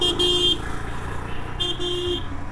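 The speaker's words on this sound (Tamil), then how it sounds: "ஹார்ன் இங்கே சைடில் அடிக்கிற மாதிரி இருக்குது, ஃப்ரண்ட்டில் அடிக்கிற மாதிரி இல்லை" A single horn on a BSA Goldstar 650 motorcycle sounds twice, two short bright toots about a second apart, over the steady low rumble of the idling engine nearby.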